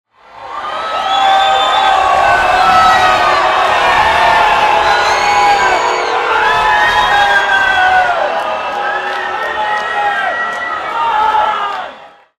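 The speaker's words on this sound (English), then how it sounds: "And now the crowd are booing and angry" A large concert crowd at a final show roars with angry booing and shouting, with scattered cheers and whoops mixed in, forming a loud, continuous wall of noise that holds steady and then drops away at the end.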